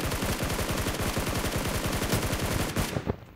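Sustained automatic SCAR-L rifle fire in the mobile battle royale game New State Mobile, a rapid, evenly spaced string of loud close shots that keeps up for about three seconds and then breaks off into quieter scattered bursts.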